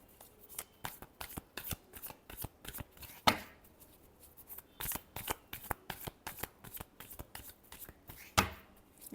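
Tarot cards shuffled by hand at close range: crisp, irregular riffles, slaps and taps in quick clusters with short gaps, fairly quiet and alone.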